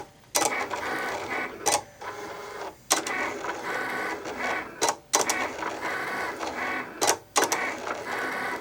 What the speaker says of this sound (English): at least here you guys can see the actual cutting of the craft foam material